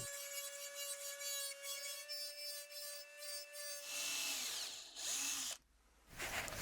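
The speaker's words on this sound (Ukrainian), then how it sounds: "придамо рельєфу фрезою" Rotary milling cutter shaping a handmade metal ice fishing lure: a high steady whine, then a harsher grinding burst as the bit bites, a brief drop, and grinding resuming, close and loud.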